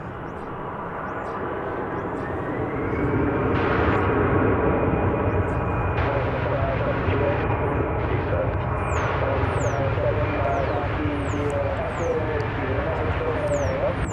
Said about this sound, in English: another Airbus A319 coming in